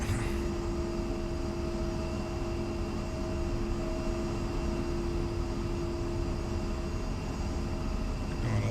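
Twin jet engines of an A-10 drone steadily while it taxis in a flight simulator on the Syria map, a constant droning roar with a high, thin whine held throughout and no speech.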